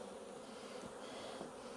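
Honeybees buzz in a dense, steady drone during a hive split, close and quiet, with no voices over the hum.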